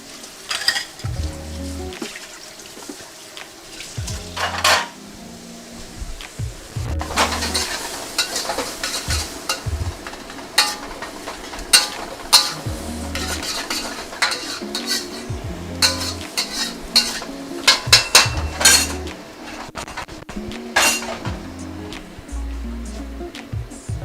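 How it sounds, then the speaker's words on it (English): Fish sauce mixture hitting a hot wok while larb gai is stir-fried, with steady sizzling, repeated scraping of a spatula on metal and clanks of cookware in uneven bursts, close and fairly loud. "this is our fish sauce mixture going in"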